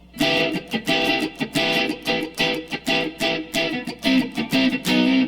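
Faster strumming of a rhythm on an electric guitar, with dense, evenly spaced chord bursts packed closely together, loud and near, with no talking.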